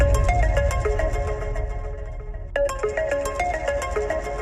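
A telephone ringtone plays loudly through a phone on speakerphone, a repeating electronic melody that cuts off briefly midway and then starts again.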